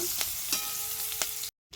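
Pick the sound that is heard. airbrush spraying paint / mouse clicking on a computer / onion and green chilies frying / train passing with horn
onion and green chilies frying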